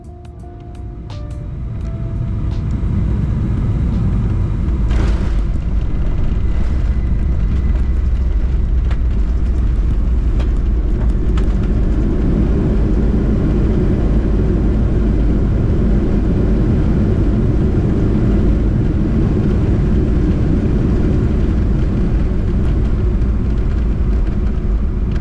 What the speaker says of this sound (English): Now enjoy the landing on runway 16 right.